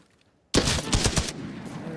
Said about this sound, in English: there's a scav shooting it over here.